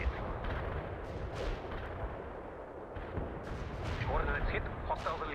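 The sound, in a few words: artillery barrage explosions in World in Conflict video game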